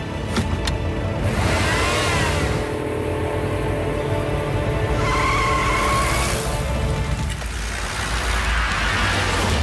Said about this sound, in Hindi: जीप चलाओ, चलाते रहो, रोकना मत